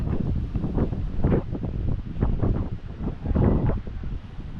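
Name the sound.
wind blowing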